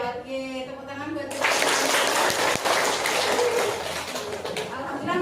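Classroom applause erupts after a teacher's voice, a dense burst of many hands clapping that holds steady for several seconds and tapers slightly toward the end.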